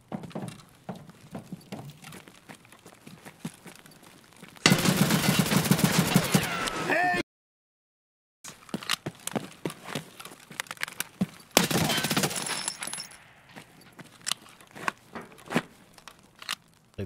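Gunfire in Escape From Tarkov, the video game: sharp rifle shots in rapid bursts with heavy sustained volleys, a brief silent gap, then more bursts, with a voice talking between them.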